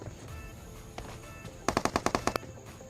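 Rapid burst of about eight automatic gunshots in the Free Fire mobile game, sharp and evenly spaced, following a few fainter isolated shots against a low background hum.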